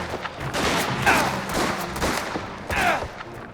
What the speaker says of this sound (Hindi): ओ भाई गोली चल गई मुझसे गलती से।